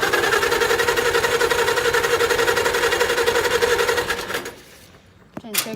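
An International Cub tractor engine runs with a loud, even, fast chugging for about four seconds, then dies away abruptly, leaving near silence and a few sharp clicks.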